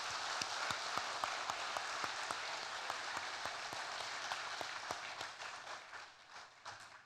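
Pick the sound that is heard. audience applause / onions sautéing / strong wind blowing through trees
audience applause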